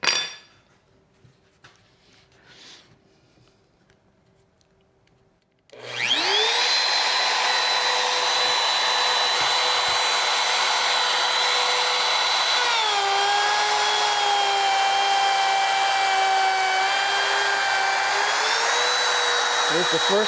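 A plunge router with a depth turret starts up after quiet handling noises and cuts into a wooden workbench top, a loud sustained high whine whose pitch dips and recovers under load.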